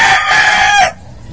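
A loud, close rooster crow at a chicken pen in the Philippines, one sustained call that cuts off abruptly, with a quiet background after.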